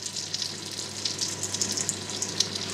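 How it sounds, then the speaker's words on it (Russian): Falafel balls deep-frying in oil over low heat in a small pot, giving a steady, fairly faint bubbling sizzle that runs continuously with small crackling peaks throughout. "И обжариваем их во фритюре где-то в течение 7-8 минут."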